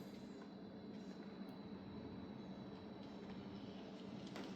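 A model train of a New York, New Haven and Hartford Railroad style rumbles steadily along its track, a continuous soft rolling clatter at low level with faint squeaks.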